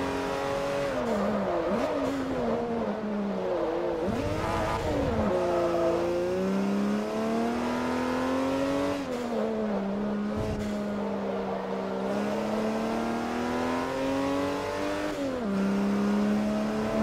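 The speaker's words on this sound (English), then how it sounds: "What an engine noise. What a beautiful sound." Race car engine in Forza Motorsport 3 revs hard and climbs through the gears with rising and falling pitch sweeps, loud and continuous throughout with no talking.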